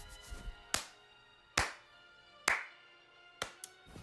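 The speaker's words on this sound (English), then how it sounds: "smiled, and started clapping" A single person claps slowly in a quiet room, four sharp, well-spaced claps ringing out close and alone, with a faint softer tap after the last.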